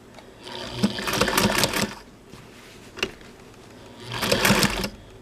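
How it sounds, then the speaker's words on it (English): A Singer 3/4 size sewing machine fitted with a replacement motor runs in two bursts of rapid stitching, with a single click between them. "I have a motor on it, a replacement motor from China, but I also have a hand crank set up for it."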